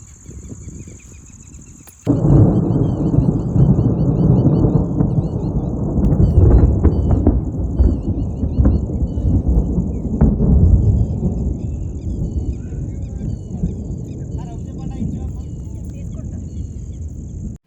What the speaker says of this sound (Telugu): ఎంత పెద్ద ఉరుములో అసలు.